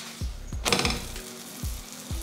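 Chapati cooking in oil on a hot pan gives a soft, steady sizzle, with a few dull low thumps and a brief brighter crackle partway through.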